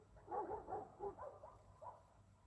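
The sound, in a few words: dogs barking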